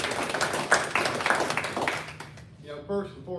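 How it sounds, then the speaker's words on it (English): A room at a press conference breaks into a couple of seconds of lively clapping for a state representative, which quickly dies away as a person begins speaking. "let's give our representative a round of applause for his proactiveness"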